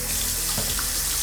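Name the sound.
tap water running to fill a cup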